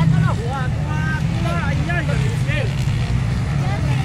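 Underbone motorcycles race at an open event in Salawagan, Sta. Rita, Quezon, Bukidnon, their engines droning and revving continuously over a steady low rumble while a commentator talks excitedly throughout.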